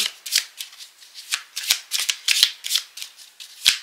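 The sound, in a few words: shuffling Petit Lenormand cards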